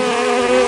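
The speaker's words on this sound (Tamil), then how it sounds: "தேனீ ரீங்காரமிடும்." A bee buzzes in a single steady, droning hum that lasts under a second, close and clear with nothing else heard.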